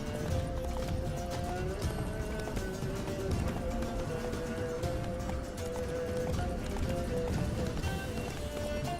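Horse hooves clip-clopping in the video game Witcher 3, a steady running rhythm of hoofbeats continuing throughout, with faint game music and effects underneath.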